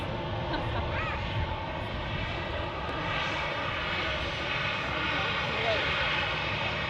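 A Jet2 Boeing 737 passenger airliner at Manchester Airport produces a steady, loud engine roar that runs unbroken throughout, with a broad rushing hum and no clear rise or fall.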